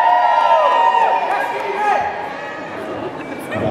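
Fans at a cosplay contest final at a comic convention in Stoke-on-Trent cheer loudly from close by, a dense burst of shouting voices that starts strong and slowly tapers off.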